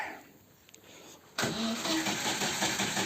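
A car engine cranks and catches after a quiet stretch, then settles into a steady, close, loud idle, with no talking.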